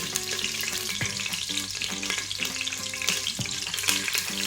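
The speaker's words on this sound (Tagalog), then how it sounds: "So we'll just fry our pata pieces until light brown on both sides." Pork leg pieces (pata) sizzle and crackle in hot oil, a steady frying hiss with bursts of popping and spattering throughout.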